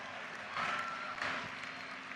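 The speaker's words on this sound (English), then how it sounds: "That's right, he deserves a round of applause." Faint, distant applause from a university commencement audience honouring Jim Henson, a soft crowd wash that swells in the middle and then fades.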